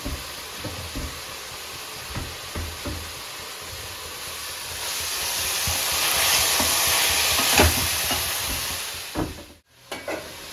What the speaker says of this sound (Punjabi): ਜਿਵੇਂ ਕਿ ਸਾਡੇ ਪਿਆਜ਼ ਭੁੱਜ ਚੁੱਕੇ ਆ